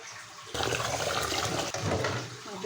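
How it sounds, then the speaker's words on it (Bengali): Rice is swished and rinsed in water in a bowl before cooking pulao, giving a close, continuous splashing and sloshing that starts abruptly and carries on steadily. "ভালো করে ধুয়ে প্রথমে ধুয়ে নেব।"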